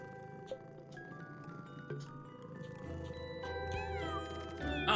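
A cat meows repeatedly in the RPG Maker horror game Pocket Mirror, the short calls rising over a quiet music track that swells toward the end, with no talking.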